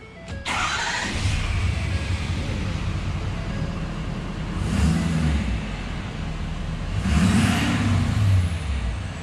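Straight-piped Ford F250 truck engine with a turbo starts abruptly and then idles loudly and steadily, with two swells of rising turbo whoosh as it is revved, close and alone.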